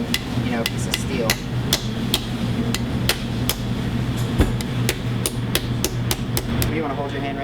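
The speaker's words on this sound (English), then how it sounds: "The coolest part about the ostrich egg, quite frankly, is the shell. It definitely sounds like you're beating on, a piece of steel." An ostrich egg shell is struck again and again, giving sharp, hard, metallic-sounding knocks at a fairly steady rhythm over a low background hum.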